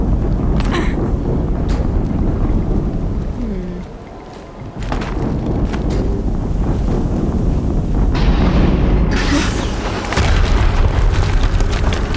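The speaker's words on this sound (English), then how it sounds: "Another explosion." Explosions in the video game Horizon Zero Dawn, heavy booming blasts layered over constant rumbling wind-like background noise, loud throughout with a brief dip before the roar returns.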